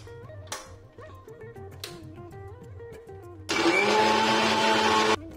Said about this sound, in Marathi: आपण हे सगळं साहित्य आता मिक्सर मधून फिरवून घ्यायचंय।